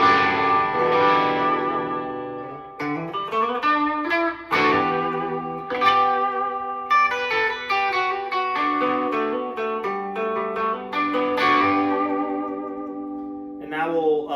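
A 2011 Gretsch G6118T Anniversary Edition electric guitar on its bridge pickup through a Boss Blues Driver set for light overdrive, playing ringing chords and single notes with slightly gritty sustain and decaying tails.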